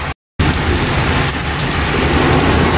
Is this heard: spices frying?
no